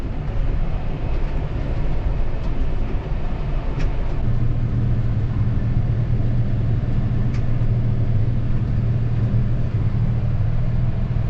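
A tractor drives across a field while spraying at about 15 km/h, its engine giving a loud, steady low rumble that stays constant throughout with no talk.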